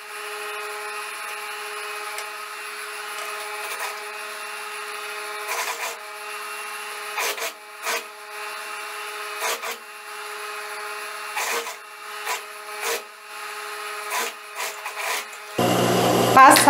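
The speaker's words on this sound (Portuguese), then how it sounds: "Trago aqui para a máquina. Veja que tá toda certinha já e eu vou passar a costura" Sewing machine stitching a blouse sleeve, with short bursts of mechanical whirring separated by pauses and a steady faint hum beneath, growing louder near the end.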